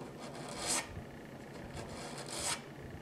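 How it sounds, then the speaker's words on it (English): Scraping old residue off a 1920s Montgomery Regal guitar, heard as two short rasping strokes, close and fairly quiet, separated by a soft scratchy pause. "You hold it in your hand, and scrape off 100 years worth of"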